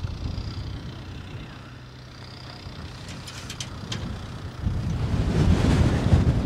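Strong wind buffeting the microphone at a small fishing harbour, a constant low rumbling roar that dips briefly and then gusts louder toward the end, with faint higher clinks in the middle.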